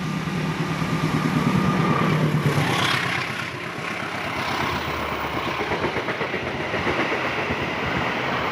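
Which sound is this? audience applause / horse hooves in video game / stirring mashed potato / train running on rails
train running on rails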